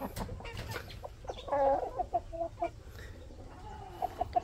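Rhode Island Red hens and roosters in a cramped coop cluck and make short throaty calls, a few notes ringing out clearly over low background rustle, fairly close.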